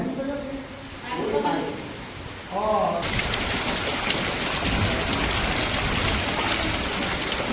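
Heavy rain pouring in a village, starting abruptly as a loud dense hiss of drops on surfaces after someone speaks, then continuing steadily with faint voices underneath.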